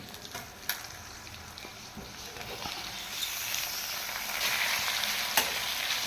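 Tomatoes fry in a pan for an egg gravy, a steady close sizzle with occasional scrapes and taps of stirring that grows slightly louder toward the end.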